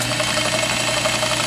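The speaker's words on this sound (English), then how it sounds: "See, the motor climbs a little bit, but it doesn't gallop at all like it used to." A surface grinder's electric motor runs steadily after a belt repair, giving a continuous, even mechanical hum with a faint rattle and no surging, close and fairly loud throughout.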